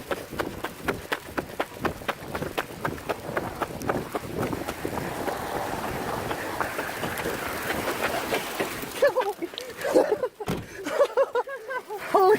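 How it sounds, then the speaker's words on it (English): Hail pelts down during a thunderstorm in a cemetery, a dense, crackling patter of ice hitting surfaces that builds steadily and then breaks into sharper, uneven impacts, with a person reacting nearby. "Oh shit, it's hail."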